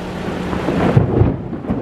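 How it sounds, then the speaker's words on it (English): Rumbling thunder from a storm moving in, with rain falling steadily throughout, loud and close with a swelling roll near the middle. "About to storm really bad here"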